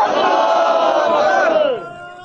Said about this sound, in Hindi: तो ये जो आपने नारे लगाए हैं अभी